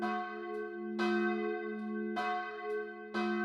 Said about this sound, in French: toutes les cloches de la ville se mirent à sonner.